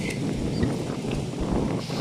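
Wind buffets the microphone in a steady, low rumbling roar that lasts the whole time, with no voices, among olive trees in Tiberias.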